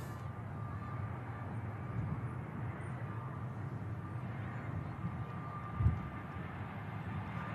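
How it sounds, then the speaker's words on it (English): An EasyJet airliner on final approach into Manchester Airport, its steady, distant engine roar rumbling continuously without a break. "Just on the final few miles now, the EasyJet."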